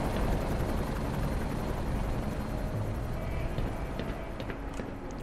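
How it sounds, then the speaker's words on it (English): Military helicopter in the video game Black Mesa, a close, loud, continuous rotor roar with a fast chopping pulse throughout. "that like a military helicopter?"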